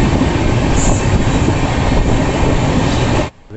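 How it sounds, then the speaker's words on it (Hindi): An express train, the Bhopal Shatabdi 02001, passes Raja Mandi station at 130 km/h with a loud, continuous roar of rails and wheels that cuts off abruptly near the end. "राजा मंडी को स्किप करते हुए 130 की स्पीड पर ये गाड़ी क्रॉस कर रही है राजा मंडी रेलवे स्टेशन को"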